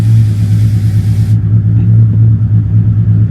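Ford Mustang engine idling with exhaust, a steady, loud, low rumble droning close by without speech.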